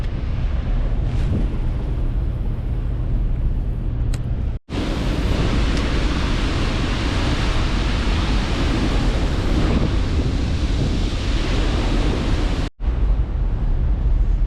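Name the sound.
wind blowing over river below dam spillway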